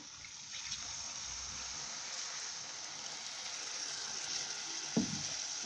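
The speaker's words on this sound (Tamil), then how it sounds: "புளி வந்து கரைச்சி எடுத்துருக்குறேன் இதை வந்து இதில் ஊற்றிடலாம்" Soaked tamarind water goes into a pan of garlic curry, and the hot oil gives off a steady, quiet sizzle. A short splash or stir is heard near the end, and there is no speech.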